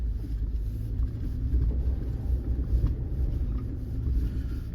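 Off-road vehicle, likely a Jimny, Hilux or Isuzu, climbing a snowy mountain road in Spiti in extreme cold, a steady low engine rumble heard from inside with some wind buffeting, no talk.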